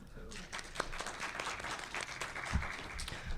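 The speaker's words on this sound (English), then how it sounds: "I'm assuming by the polite applause that you don't need a better introduction than that?" Steady, moderate applause from an audience fills the clip, a continuous patter of clapping without cheering.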